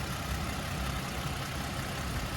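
A twin-turbo V6 in a 2022 Toyota Tundra with 90,000 miles idles with a steady, even hum, heard up close with no speech over it.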